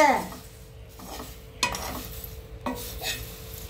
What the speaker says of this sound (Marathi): हे बघा पोह्याला असं 5 मिनिटं भाजून घ्यायचं, कडक होतात